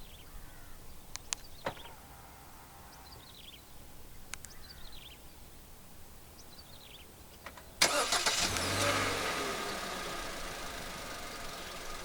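A 2023 Hyundai Creta 1.5's engine, started by remote start, cranks and catches partway through, then settles into a steady idle after a stretch of quiet outdoor ambience with a few clicks and distant bird calls.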